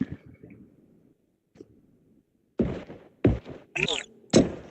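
Heavy wrench blows landing in a video game, a series of four or five dull, punchy thunks in quick succession after a quieter stretch, loud and close.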